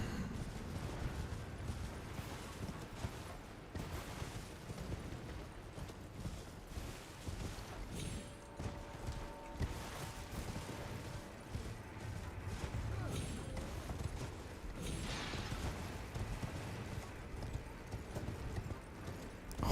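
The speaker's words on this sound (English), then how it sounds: "Horse riding simulator, yes indeed." Horse hooves clip-clopping at a gallop while riding in Elden Ring, a steady rapid beat with a brief whinny and wind in the background.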